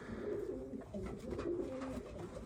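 Racing pigeons coo at close range, soft low rolling calls that repeat in a loose rhythm through the whole stretch over a faint background, with no talking.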